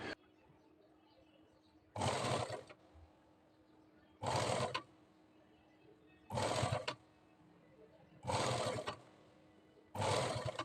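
Sewing machine stitching piping onto the neckline of a princess-cut blouse, running in five short, even bursts of about half a second to a second each, separated by quiet pauses.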